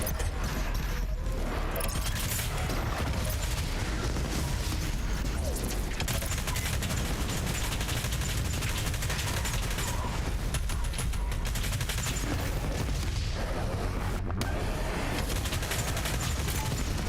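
Dense, relentless gunfire from Doom Eternal roars without pause, rapid shots layered over explosions and game noise at a constant loud level for the whole stretch.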